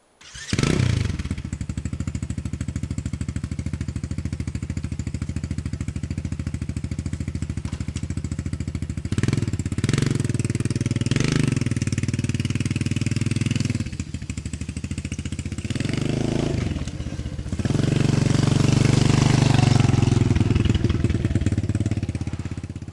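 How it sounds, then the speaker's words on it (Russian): A motorcycle engine starts with a sharp catch, then runs steadily at a close, loud idle, with a few revving surges and a final stronger rev near the end, no talking. "Поперли на мотоцикл."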